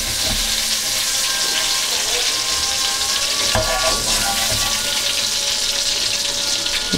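Green chillies fry in a pan of hot oil, giving a steady, loud, close sizzle with bubbling crackles throughout and no pause.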